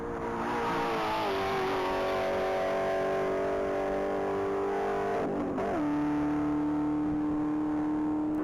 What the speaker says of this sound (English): Back on the line is vehicle number 88. That's going to be a 2015 Chevrolet Camaro Z28